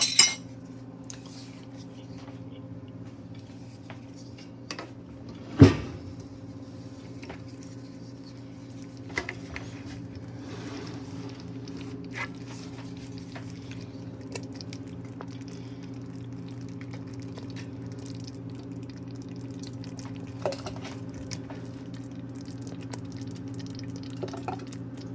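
Hot glass jars being filled with homemade jam, with a few light clinks and taps of a utensil against glass over a steady low hum in a quiet kitchen.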